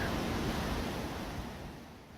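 Storm-driven ocean surf at high tide during Hurricane Nicole on the Florida coast, a loud, continuous roar of crashing waves with wind rumble on the microphone, steady throughout and easing slightly toward the end.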